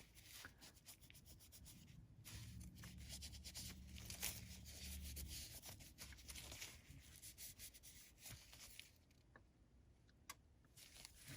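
A one-ounce silver bar being rubbed by hand to polish it, giving a steady close-up scraping and rubbing friction that continues through the clip with small clicks and handling noises.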